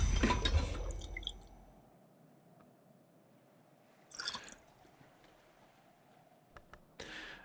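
Water poured in the Book of Hours video game: an initial loud splashy burst, then quiet, with two short watery trickling bursts later on, with no talking.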